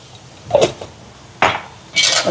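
Cooked rice is mixed with coconut milk and turmeric in a pot, a spoon scraping and knocking against the metal in three loud, close bursts.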